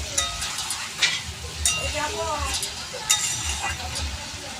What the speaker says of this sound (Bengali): মশলাটা একটুখানি কষিয়ে দেবো।